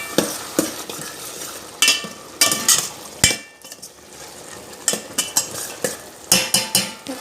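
A spoon scrapes and knocks rhythmically against a pot while stirring a vegetable and greens curry with a spoonful of jaggery, with a soft sizzle underneath and no talking.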